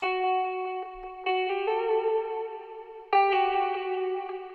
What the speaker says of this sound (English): I did actually find this cool little guitar in Arcade